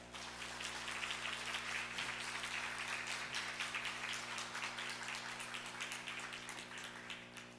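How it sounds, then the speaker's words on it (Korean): Church congregation applauding newly introduced daycare teachers, a steady dense wash of many hands clapping, fairly distant and quiet, with no talking over it. "여러분 격려의 박수를 부탁합니다"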